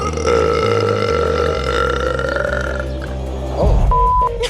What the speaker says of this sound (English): Her burps are the stuff of urban legend.